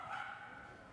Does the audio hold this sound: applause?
no